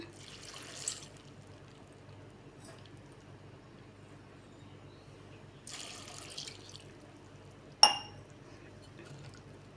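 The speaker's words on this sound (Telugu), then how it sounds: "ఇప్పుడు దీంట్లోకి వాటర్ యాడ్ చేసుకుంటున్నాను" Faint, brief gushes of water poured into a pot of broad bean curry in two separate bursts, followed by a sharp clink of metal or glass, in a quiet room.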